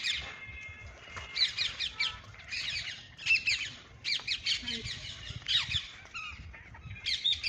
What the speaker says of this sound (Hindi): वो पूरे ब्रज में घूमते हैं ये तोते।